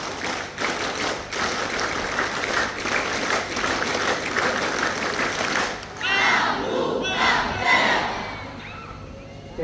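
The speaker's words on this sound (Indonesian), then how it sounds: "Dua kali tepuk pramuka." A group of scouts performs the rhythmic Pramuka clap twice at an Indonesian school ceremony, with sharp patterned claps and group shouts, then a brief cheering burst near the end.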